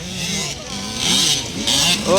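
Small 50cc kids' motocross bikes racing at a motocross final, engines revving and rising in pitch as they pass, with an announcer calling excitedly over the engine noise throughout.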